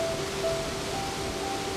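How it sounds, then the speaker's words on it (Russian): A waterfall on a river in the Komi region throws up cold spray with a steady, broad roar of rushing water. The sound stays even and unbroken throughout, with no talking. "Брызги холодной воды, шум водопада."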